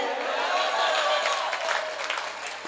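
Audience clapping at a Hindi comedy poetry gathering, a steady, fairly close wash of applause that holds for nearly three seconds before thinning slightly at the end.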